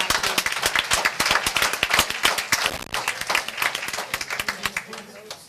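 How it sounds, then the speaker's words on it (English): An audience applauds parents who supported a school team at a board awards meeting, with dense, steady clapping from many hands throughout and a few voices mixed in. "I'm sure the boys and the coaches would love to give a round of applause to you parents who supported them"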